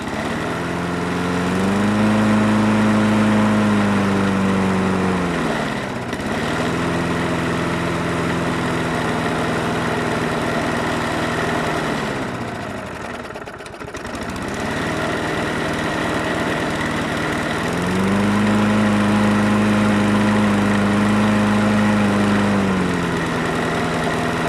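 A small Sprint engine idles after starting, a loud close chugging drone that dips twice in speed before settling back to a steady idle, with no talk.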